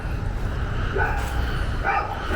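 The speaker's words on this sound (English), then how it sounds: "A dog sees me and is barking." A dog barks a few times at a distance, faint yips over steady outdoor background noise.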